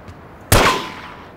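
A single sharp gunshot in the mafia video game The Godfather, a loud close crack followed by a short decaying echo, alone against quiet background.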